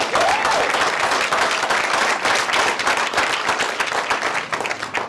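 An audience at a Lehigh Valley chamber event in Easton gives Mayor Panto a round of applause: thick, continuous clapping from many people, loud and even throughout before tapering slightly at the end.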